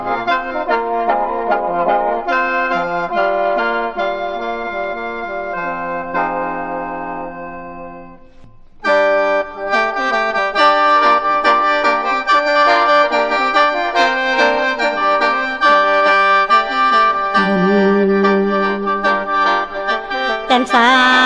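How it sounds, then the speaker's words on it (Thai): Lam Som, the Lao folk singing style of Khong in Champasak, heard as a sustained, melismatic vocal line with a brief pause midway, accompanied by bright instrumental drones. "อันนี้เป็นเสียงลำโสมเป็นเอกลักษณ์ของเมืองโขงแขวงจำปาสัก"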